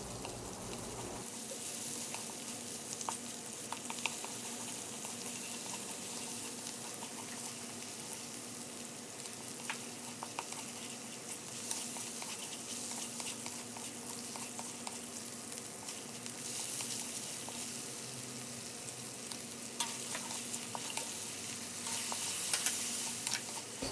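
Meat stir-frying with garlic, shallots, soy sauce, oyster sauce and sriracha, a steady close sizzle running throughout with faint intermittent stirring scrapes.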